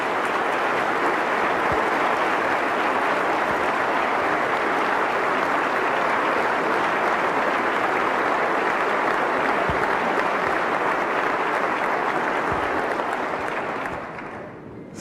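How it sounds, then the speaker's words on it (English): Audience at the 2023 West Virginia State of the State Address applauds loudly and continuously in a large hall, a dense sustained roar of clapping that fades out at the very end. "if you could please give him a great round of applause"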